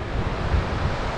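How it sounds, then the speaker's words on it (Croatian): Big sea waves wash onto a wide sandy beach at Ulcinj, Montenegro, making a steady, broad roar of surf mixed with gusty wind buffeting the microphone, continuous across the whole short stretch with no voices. "Talasi su veliki."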